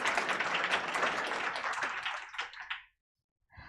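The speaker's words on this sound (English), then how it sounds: "Please give him a round of applause." Audience applause at a women entrepreneurs' event, dense clapping from a crowd that holds steady, then thins into a few scattered claps and stops abruptly, followed by a moment of silence.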